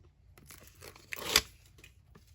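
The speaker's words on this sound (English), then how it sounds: "I'm gonna take my first larger piece of chipboard and peel back this tape" Tape backing is peeled off a piece of chipboard for a mini album, a short close tearing rip after a few soft paper rustles.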